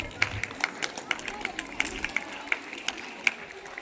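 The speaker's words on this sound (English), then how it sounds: "Give him a big round of applause." Students applaud a classmate called up to sing at a school Independence Day celebration: a thin, steady patter of hand claps at a distance, quiet and roomy, with faint crowd murmur underneath.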